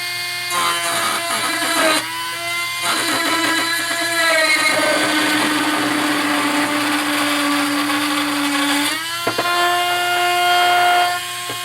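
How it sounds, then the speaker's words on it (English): A high-pitched electric drill whines steadily, its motor pitch shifting as it bites into material, with short stops and restarts. "I'm going to go in here and drill a hole in the arms."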